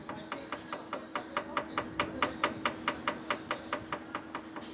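A 1942 Harley-Davidson WLA 45 ci flathead sidevalve engine is slowly turned over, giving a quiet, even train of sharp mechanical clicks at about four per second that never catch or fire.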